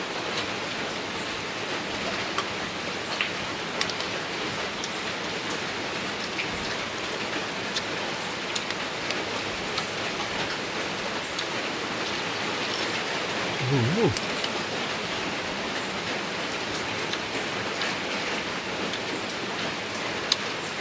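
Steady rain falls outdoors in a continuous hiss of drops on surfaces, with a brief low rumble partway through and no clear talking.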